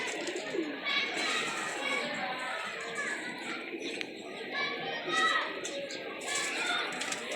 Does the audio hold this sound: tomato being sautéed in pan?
no